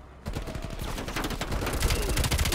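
Rapid automatic gunfire in Call of Duty: Cold War on PS5, a dense rattling burst of repeated shots that starts abruptly and keeps going loud and close for the rest of the moment.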